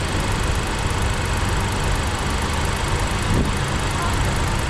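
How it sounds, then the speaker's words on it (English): A 3-cylinder engine on a VW Taigun GT Line idles with a steady, even rumble and slight vibration, heard close from inside the cabin with the AC running, continuous and without talk. "when the car is idling, there will be a little bit of"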